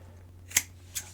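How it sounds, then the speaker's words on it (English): Two crisp scissor snips cutting rope strands close by, about half a second apart, over a faint steady hum. "The next step you're going to want to do is just snip these off."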